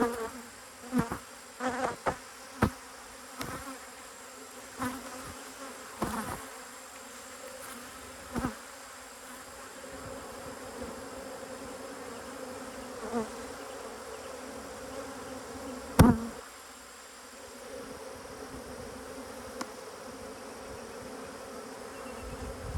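Honey bees drone steadily around a row of apiary beehives, a continuous close buzz with scattered louder passes and brief clicks throughout, no talk.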